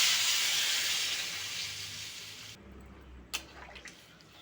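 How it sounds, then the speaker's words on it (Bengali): Spice-rinsing water goes into a pan of fried potatoes, setting off a bright, loud hiss that fades to quiet after a few seconds. Soft drips and a clink follow. "এবার কিন্তু মশলা ধোয়া জলটা আমি দিয়ে দেবো"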